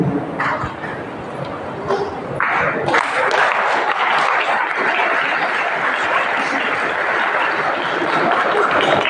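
An audience of students claps at a school talk on life values at JNV Banswara. The dense applause builds after a few seconds and holds steady and fairly loud to the end, without speech over it.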